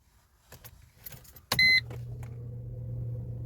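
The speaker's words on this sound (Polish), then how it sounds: "samochód odpala na zimnym" Mercedes W245 with an ignition misfire on cold starts: a short starter crank and a brief electronic beep, then the cold engine catching and settling into a steady, low idle hum. No talk is heard.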